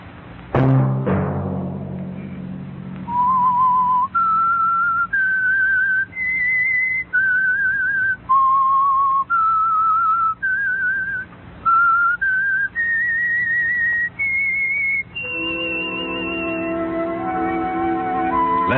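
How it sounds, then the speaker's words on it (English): The theme tune of The Whistler radio program is whistled alone, a clear melodic line of distinct stepped notes with short pauses between phrases, ending in a sustained tone under a rising musical chord. "Let that whistle be your signal for the Signal Oil program"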